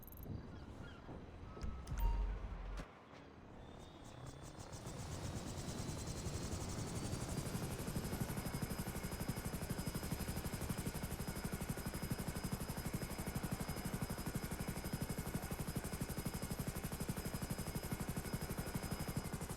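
In GTA V, after a brief low thump, a helicopter's steady rotor drone settles in and continues, with a thin high whine above it.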